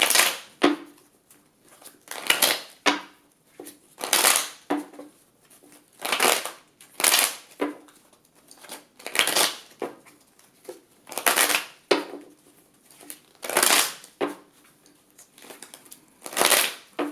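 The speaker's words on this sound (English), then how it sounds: "me shuffling my cards in the reading" Tarot cards are shuffled by hand in repeated crisp riffling bursts, about a dozen evenly spaced flurries with brief pauses between, close and clear.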